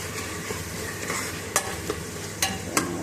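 Tomatoes sizzle and fry in a pan while being stirred for sundal (chickpea) biryani, a steady crackling hiss punctuated by several sharp clicks of the spoon against the pan.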